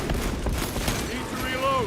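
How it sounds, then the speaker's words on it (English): Bolter fire in Warhammer 40k Space Marine 2, a dense rapid burst of heavy gunshots and booming impacts running continuously, loud and close, with a faint tonal whine rising near the end. "My bolter will silence you!"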